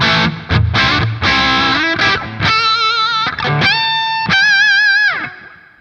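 An electric guitar played through a Revv Generator 100R amplifier with the bright switch engaged, loud and distorted, moving from choppy chugging chords into sustained, vibrato-laden lead notes that ring out and fade at the end.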